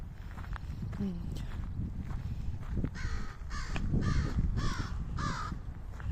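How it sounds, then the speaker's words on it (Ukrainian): A crow caws several times in a forest setting on a morning walk, loud repeated caws in quick succession mid-clip, over the crunch of footsteps and outdoor background noise. "Бачите, ворона."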